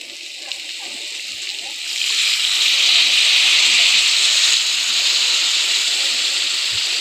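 Water poured into a pan of pork frying without masala sets off a sudden loud hiss about two seconds in, settling into a sustained steamy sizzle close by.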